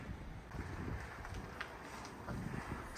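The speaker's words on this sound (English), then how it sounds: "It is so windy." Strong wind roars steadily through a South Dakota blizzard, a continuous broadband rush with gusty swells and buffeting against the microphone, heard alone without talk.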